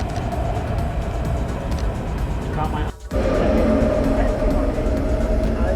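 A tram rolls along a Berlin street, its continuous rumble and rail noise filling the scene close by, with a brief dip in the roar midway before it swells again; a voice can be heard speaking over it.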